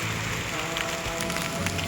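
Light rain patters steadily on surfaces in the Sagada mountains, a dense, even hiss with scattered close drops, loud and continuous with no talking.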